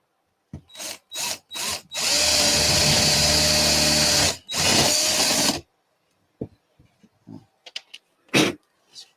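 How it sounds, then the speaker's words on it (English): A power drill boring a hole into a wooden baseboard: a few short trigger bursts, then a loud continuous whine for over two seconds and another brief burst, followed by scattered clicks and handling noises. "I drilled the hole in the wrong place."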